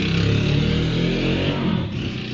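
A car engine drones steadily as the vehicle travels along a straight road, close and fairly loud, with no talk over it.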